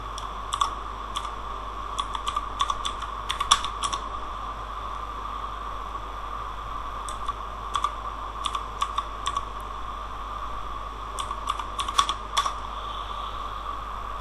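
Keys tapped on a computer keyboard in scattered bursts over a steady background hum, fairly close and moderately loud, while a cover photo for digital marketing is made in Canva; no one speaks.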